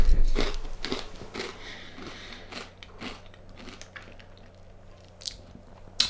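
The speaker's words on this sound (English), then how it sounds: "mouthful of Twiglets, slurp of Purity beer." Twiglets crunch in a mouthful, close and loud at first, then softer chewing with crisp snaps continuing alone for several seconds.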